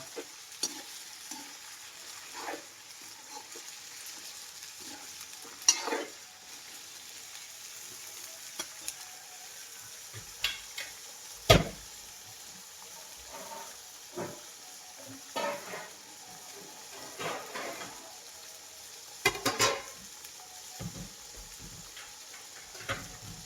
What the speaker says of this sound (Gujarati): થોડુંક બટાકા અને મટર મતલબ વટાણા ફ્રાય થઈ જાય